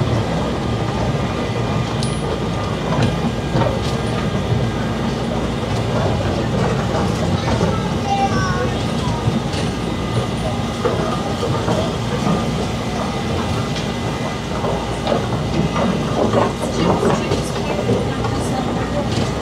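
A small pier train on Southport Pier rumbles steadily along with a continuous mechanical clatter and low engine drone, with faint voices in the background.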